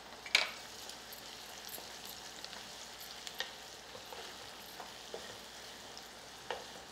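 About ten cloves of finely chopped garlic fry in a pan with a soft, steady sizzle, broken by scattered pops and a few sharper clicks of stirring, with no talking.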